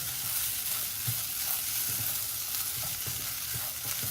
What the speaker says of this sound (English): So try to fry the rice.